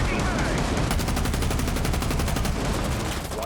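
Rapid automatic gunfire in the video game Rainbow Six Siege, a dense, fast stream of shots at close range, with a faint voice in the background.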